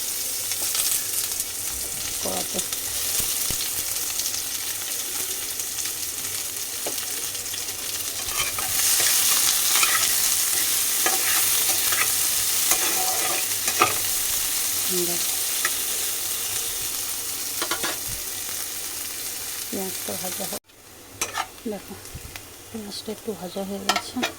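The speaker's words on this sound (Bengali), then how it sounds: "আমি পটলটা লাল লাল করে ভেজে নিয়েছি এই দেখো একটাতেই তুলে ফেলেছি পটলটা একটু পেঁয়াজ দিয়ে দিলাম" Continuous sizzling of pointed gourd and onion frying in hot oil in a pan, with occasional scraping and stirring sounds, close and steady throughout.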